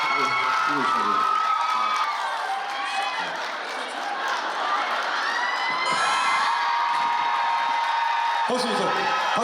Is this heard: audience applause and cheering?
yes